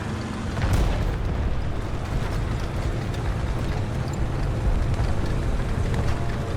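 An enemy tank cannon fires in a World War II tank game, giving a single heavy boom early on that settles into a loud, sustained rumble of engine and battlefield noise.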